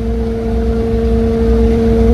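Vehicles roll off a lowered ferry ramp at Balohan harbor on Weh Island, with a loud, steady, close engine rumble and drone and no talking.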